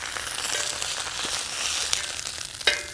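Hispi cabbage wedges fry in a pan with a steady, close sizzle, crackles and small pops scattered throughout and a sharper spit near the end, with no talk.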